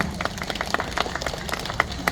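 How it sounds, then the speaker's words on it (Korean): An outdoor crowd at a street fashion show in Gwangju claps in scattered, uneven bursts, moderately loud, with individual sharp hand claps standing out from the general applause. "감사의 박수 한번 부탁드릴까요?"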